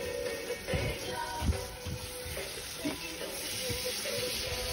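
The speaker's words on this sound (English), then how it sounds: "just give it another stir" Oxtail stew being stirred in a pot, a soft steady simmer and sizzle with low scraping and liquid movement from the spoon, close and fairly quiet.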